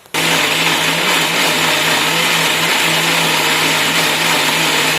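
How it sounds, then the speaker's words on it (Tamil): A mixer grinder whirs steadily and loudly as it grinds soaked black kavuni rice into idli batter, a continuous motor drone with a low hum running the whole time, no talking. "மிக்சி ஜாரில் தான் போட்டு அரைச்சிருக்கேன்"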